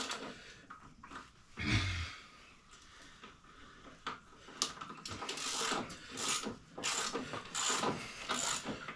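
A wrench works loose the lug nuts on a car wheel during a tire service, giving ratcheting, clicking and metallic knocks in uneven bursts, close and moderately loud.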